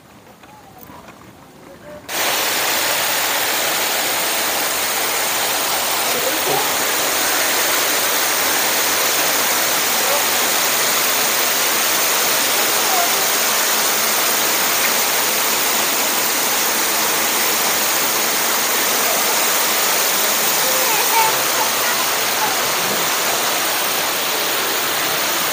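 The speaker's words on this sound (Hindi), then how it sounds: "वाटरफॉल नॉट फाउंटेन, सिर्फ एक वाटरफॉल है यहाँ पर" Waterfall at Toronto Zoo: after a brief quieter opening, a loud, steady broadband rush of falling water fills the rest of the scene, continuous and unchanging, close by.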